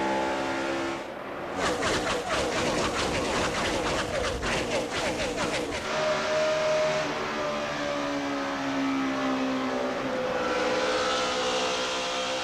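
NASCAR race cars accelerate hard at a restart in the 2010 Samsung Mobile 500, a loud roaring engine wall with a sharp rasping burst early on, then sustained droning engines with a commentator talking over it.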